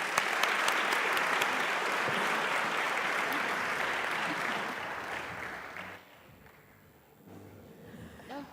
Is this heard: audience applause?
yes